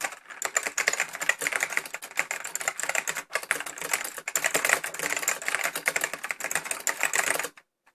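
Continuous, fast typing on a Bigfoot mechanical keyboard, a dense steady clatter of close keystrokes lasting several seconds with one brief pause before stopping abruptly near the end.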